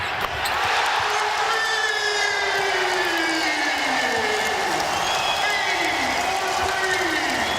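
A basketball arena crowd at a Rutgers men's game roars and applauds loudly and continuously, a dense, swelling wall of noise with a voice rising over it.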